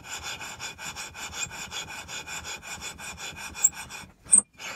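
A Tillotson 212R engine valve is lapped against its seat with abrasive compound, giving a rhythmic gritty rubbing that runs back and forth in quick, even strokes, close and alone, with a couple of small clicks at the end.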